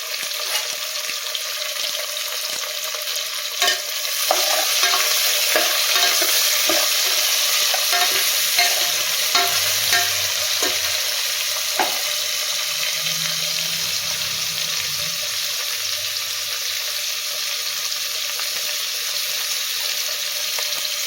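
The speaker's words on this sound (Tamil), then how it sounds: "வெங்காயம் சேர்த்து கலக்கி வைக்கலாம் நல்லா கலந்து விடலாம் வெங்காயம் வந்து நல்லா வதங்கலாம்" Onions frying in a pan for a quick pulao, stirred now and then: a strong, steady hissing sizzle fills the whole stretch, broken by scattered light clicks and scrapes of the spoon, and no one speaks.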